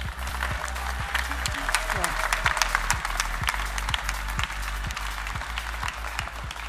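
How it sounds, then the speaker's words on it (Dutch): Warm, steady applause from a seated audience at a masterclass lecture, dense clapping with some individual claps standing out, accompanied by a low steady hum and faint murmuring underneath. "een heel hartelijk applaus graag voor Ena Fouten"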